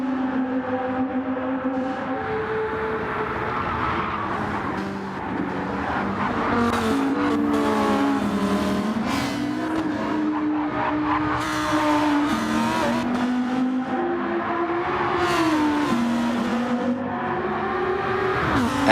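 Race cars in Gran Turismo 7 roar continuously through a race, engines rising and falling in pitch with gear shifts, with bursts of tire squeal and skidding over the loud, unbroken engine drone.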